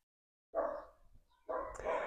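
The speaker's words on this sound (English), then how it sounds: "Now the dog's going to start barking." A dog barks twice nearby, two short gruff barks separated by a brief pause, in an otherwise quiet room.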